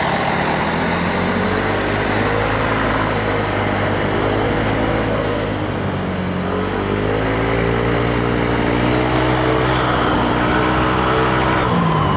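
Yamaha Aerox V3 scooter fitted with an aftermarket exhaust pipe, riding over a bumpy everyday road; a steady, loud, close engine drone with rising and falling revs runs throughout, with no voices.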